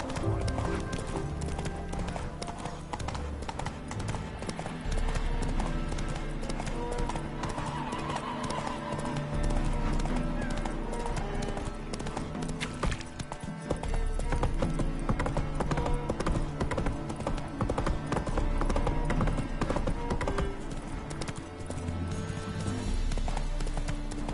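Horse hooves clip-clop steadily in The Witcher 3 video game, a rapid galloping rhythm over a dense layer of game music and ambience, with occasional neighs throughout.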